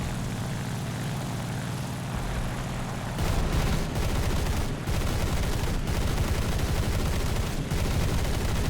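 Aircraft machine guns and cannons firing in War Thunder during a high-speed diving fighter attack by an A7M1 (NK9H) on an IL-4 bomber, dense rapid bursts over a steady propeller engine drone, loud and continuous in the latter half.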